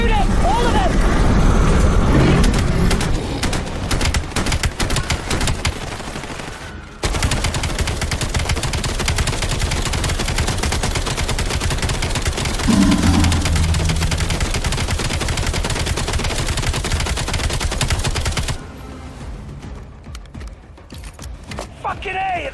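Loud, continuous automatic gunfire from a Call of Duty Black Ops 7 video game battle rattles for about twenty seconds, dense bursts overlapping with game effects and shouting voices, dropping in intensity near the end.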